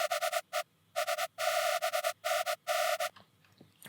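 Bursts of a harsh, buzzy, detuned synth tone made in Serum, bright and screechy, played in short rhythmic stabs and longer held notes, then cutting off into near silence.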